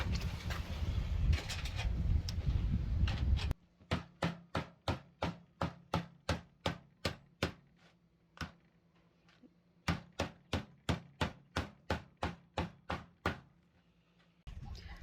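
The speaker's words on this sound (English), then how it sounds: "we're going to use a hammer and hammer down at a 90-degree angle" A hammer strikes sheet metal again and again in a steady rhythm, bending it to a 90-degree angle, sharp ringing blows close up, with a short pause midway before the hammering resumes.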